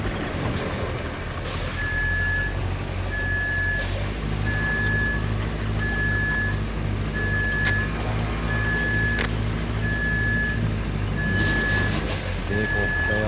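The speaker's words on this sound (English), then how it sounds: "Totally forgot about this fucking dump truck." A dump truck in the video game RoadCraft sounds its reversing beeper, a steady run of evenly spaced electronic beeps over a loud engine drone, with occasional clanks.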